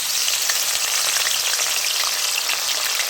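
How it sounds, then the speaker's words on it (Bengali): Shrimp fry in hot mustard oil in a wok with a loud, continuous hissing sizzle and fine crackle, close and steady, with no voices. "এবার হালকা করে ভেজে নিচ্ছি।"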